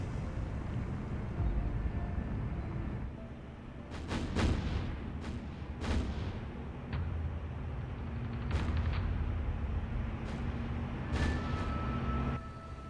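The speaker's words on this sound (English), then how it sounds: "She has only one gun firing on us" Naval gunfire from an enemy ship in the video game War on the Sea booms repeatedly over a constant low sea and engine rumble, several sharp distant-sounding shots spaced irregularly, with no talk.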